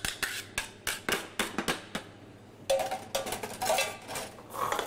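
Utensils scrape and clink against a plate and pot while buttery mashed potato is served alongside braised ox cheek, with a regular series of sharp metallic knocks followed by denser scraping and clattering, close and with no speech.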